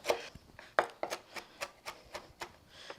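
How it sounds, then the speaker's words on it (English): A knife chops bacon on a board in quick, irregular strokes, about a dozen soft thuds close by and fairly quiet. "Just gonna chop it up into pieces that'll fit nicely into those jalapenos."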